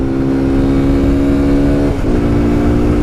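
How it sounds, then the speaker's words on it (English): Kawasaki Z125 Pro motorcycle engine held at full throttle in first gear, a loud steady high-pitched drone close by, briefly dipping near the end as the revs drop and then recover. "That's full throttle in first gear."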